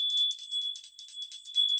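A meditation bell rings with a thin, high shimmering tone, sounding as light repeated tinkling strikes that blend into a steady faint chime over about two seconds, with no voice.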